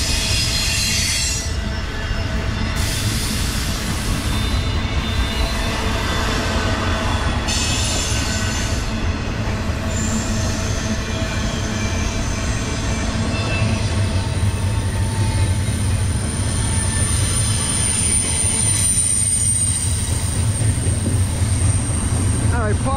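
A long eastbound Conrail freight train rumbles steadily past close by in Edison, New Jersey, with continuous rolling wheel noise and occasional high metallic squeals over the drone.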